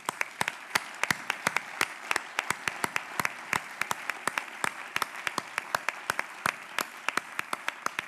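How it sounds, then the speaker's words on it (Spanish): A small audience at a Basque journalism awards gala gives sparse, distinct claps for the event's technical team, each hand clap sharp and separate in an otherwise quiet hall. "Un aplauso para ellos también."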